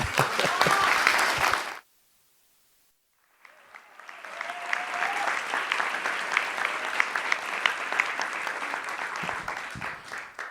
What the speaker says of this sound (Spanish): un aplauso para Javiera